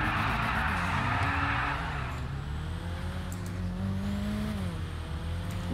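Engine roar of a motorbike racing in the video game Eightborn, loud and continuous, with rising and falling pitch as it accelerates, alongside a car engine.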